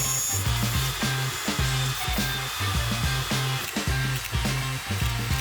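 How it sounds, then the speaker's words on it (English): A lathe turns a brass pivot bushing in a production shop, giving a loud, steady machine whine with a repeating rhythmic pulse throughout. "Here, the pivot bushing is turned out of brass."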